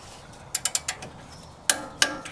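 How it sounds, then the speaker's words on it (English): A socket wrench ratchets while a lower ball joint castle nut on a Toyota is torqued, giving a quick run of clicks followed by two louder separate clicks, close and clear with no talking. "He's going to torque the lower ball joint castle nut to 103 foot-pounds."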